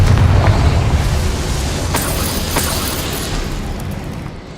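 A blasting-spell explosion in the Hogwarts Legacy video game gives a loud, deep boom that rumbles and slowly fades over several seconds, with a few faint crackles in the tail and no talk.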